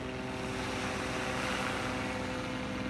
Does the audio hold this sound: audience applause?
no